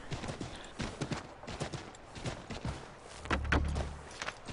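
Horse hooves clip-clop in Assassin's Creed III, a fairly quiet, uneven run of hoofbeats with a brief low thump near the end.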